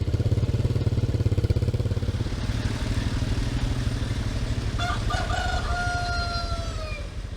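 A motorcycle engine putters steadily close by on a road in central Java, with a rooster crowing loudly over it near the end.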